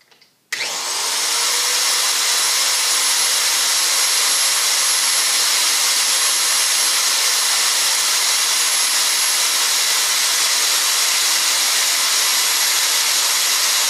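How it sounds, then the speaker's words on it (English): A 690-I hand-held power drive runs in reverse to back a thread off a pipe, a loud, continuous high-pitched motor whine starting abruptly after a short pause and holding steady for the whole stretch. "We switch the machine into reverse, and we reverse the thread off the pipe."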